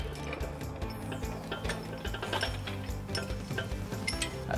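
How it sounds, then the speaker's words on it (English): A U-Haul hitch jack rolls a heavy trailer hitch into place under a 2012 Dodge Durango, giving a steady run of metallic clicks and rattles with low mechanical rumble, close and fairly loud, with no talking. "now we're going to roll our hitch into place using our exclusive U-Haul hitch jack"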